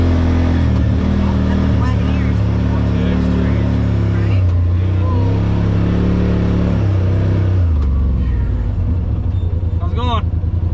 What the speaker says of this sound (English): the old Rmax gets around the old Silver Lake pretty good